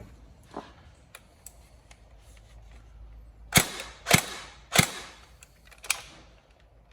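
A Tokyo Marui G36K next-generation recoil electric airsoft gun fires four sharp, loud single shots spaced roughly half a second apart, after faint mechanical clicks and ticks of handling, with no talking.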